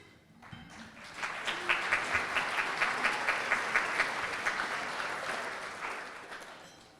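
Applause from a dinner audience at a chamber of commerce event, a steady crowd of clapping that swells for several seconds and then tapers off, with no voices over it.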